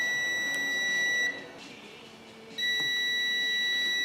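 Steady electronic continuity beep from a multimeter testing fuses during an Atari Pole Position arcade restoration, a loud tone that breaks off for about a second and then resumes.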